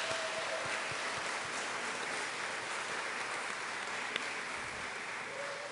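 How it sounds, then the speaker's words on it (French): A church congregation gives sustained applause to the choir at a Sunday mass, a dense, even patter of many hands that holds at moderate loudness from start to finish, with no speech over it. "je crois qu'il faut leur donner une bonne main d'applaudissement"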